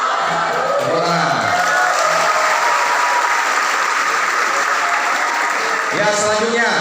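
Loud group clapping from students during a jump-based right-or-wrong classroom game, a steady rattling burst of many hands with a teacher's voice speaking briefly at the start and again near the end.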